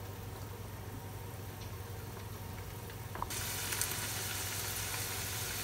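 A crispy pata pork leg deep-fries in a covered pan, giving a steady hiss that swells abruptly into a louder, brighter sizzle partway through, with faint ticks and pops.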